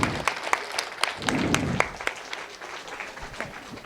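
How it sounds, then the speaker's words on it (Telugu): An audience claps to welcome someone speaker onto the stage at a spiritual youth event, with loud, scattered claps and sharp individual hand strikes standing out against steady crowd applause that gradually thins. "గట్టిగా చప్పట్లు"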